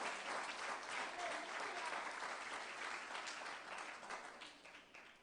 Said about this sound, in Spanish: Dele un aplauso, si es para el Señor